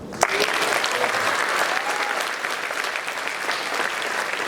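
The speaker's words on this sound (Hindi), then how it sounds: "और तालियां तो अब बजाना" A live comedy show audience breaks into loud, dense applause, starting with a sharp clap and continuing as an even, sustained wash of many hands for several seconds with no talking over it.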